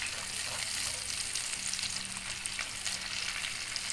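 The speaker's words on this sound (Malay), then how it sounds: "Goreng seketika cili api." Bird's eye chillies fry in hot oil with onions that are nearly crisp, a steady close sizzle and crackle with light stirring, and no talking.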